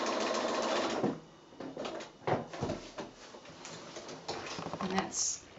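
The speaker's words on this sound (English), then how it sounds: "It's just a straight stitch, straight in, and then I'm going to press reverse on my machine" A sewing machine stitches a straight seam for a quilted project bag, running in a brief whir, then stopping and starting in short bursts, close by and fairly quiet.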